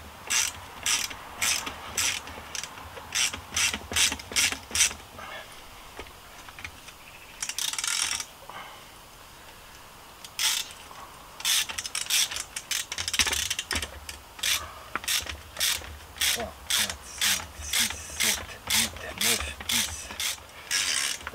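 A ratchet wrench loosens the bolts on the front shock absorbers of a Fiat 500, clicking close and loud in fast bursts, then pausing briefly before the next run of clicks, with no talk.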